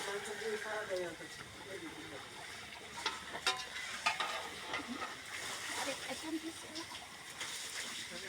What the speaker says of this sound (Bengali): মাংস এখন কষা হচ্ছে